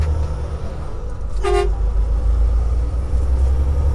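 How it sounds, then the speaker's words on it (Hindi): A single short truck horn toot, about half a second long, sounds from an 18-wheeler over a steady loud engine and road rumble. "इसको हॉर्न मारूं"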